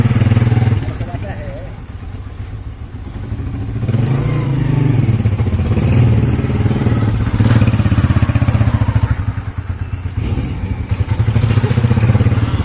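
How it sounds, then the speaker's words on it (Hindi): A motorcycle being ridden by a boy trying it out, its engine droning and revving unevenly close by with some clatter and thumps, while people talk over it. "अब मुबशर मोटरसाइकिल ट्राई कर रहा है किस तरह चलाया जाता ह"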